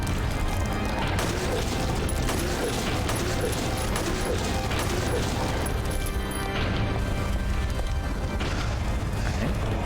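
Shotgun shots in the video game Silent Hill 3, heavy booms buried in a dense, constant wash of loud game noise, a few sharper impacts standing out.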